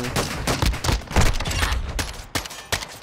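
Rapid bursts of gunfire from a Modern Warfare 2 Search and Destroy match on PS5, loud and close, repeated shots clustering densely with sharp cracks through the three seconds.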